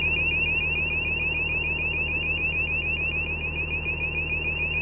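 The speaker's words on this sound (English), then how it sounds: "That's the most annoying buzzer ever" A loud, steady electronic buzzer drones continuously and harshly, with no pauses, over a low background hum.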